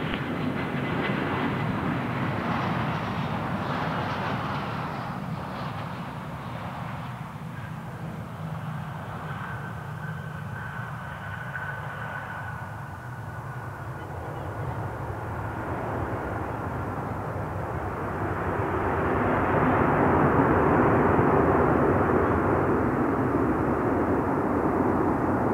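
A South African Airways Airbus A340-300 arrives on runway 03 at Perth Airport, its engines a loud, sustained rumbling roar with shifting whine that swells again toward the end as it rolls out.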